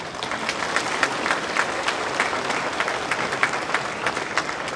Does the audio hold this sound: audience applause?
yes